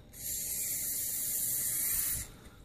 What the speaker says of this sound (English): So we just spray a little bit of stuff in there.